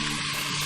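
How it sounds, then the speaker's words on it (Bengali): Tomato and cashew paste masala frying in a pan for Mughlai chicken changezi, giving a steady, close, continuous sizzle with no break and no talking. "আরেকটু মশলাটা কষিয়ে নিচ্ছি যতক্ষণ না তেল ছেড়ে বেরিয়ে আসছে।"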